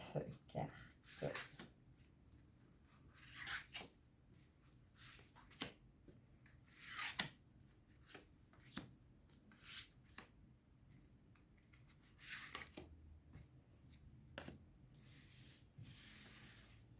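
Tarot cards being shuffled, with scattered soft rubbing and flicking bursts at irregular intervals, close and quiet against a low steady background hum.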